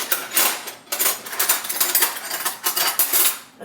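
A big metal spoon is picked up from a pile of cutlery, setting off close, busy clinking and rattling of silverware that stops briefly and then starts again.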